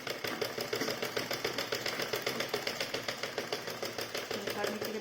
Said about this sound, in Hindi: अब इस पर हम सिलाई डाल देंगे।